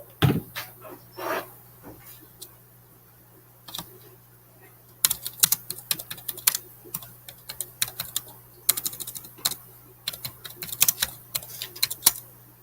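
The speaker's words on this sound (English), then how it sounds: "I can hear you typing" Keys clatter on a computer keyboard in irregular bursts of quick taps, soft at first and then denser and busier, recorded close and fairly quiet with no talking.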